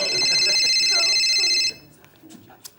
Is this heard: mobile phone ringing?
yes